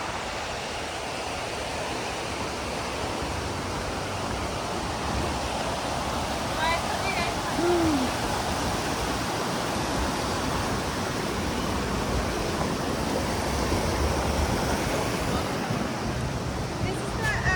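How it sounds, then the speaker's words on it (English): Steady rushing creek water flows nearby, a continuous broad hiss and churn with faint wind noise, unchanging throughout. "This is the creek, the Mill Creek"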